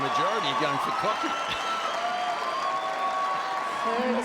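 Australian Open tennis crowd in a second-round match cheering for Kokkinakis, a sustained wash of applause and cheering heard under a commentator talking at the start.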